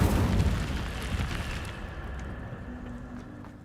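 Incendio fire spell cast in the Hogwarts Legacy video game, a loud burst of fiery explosion that booms at the start and then fades into a crackling rumble.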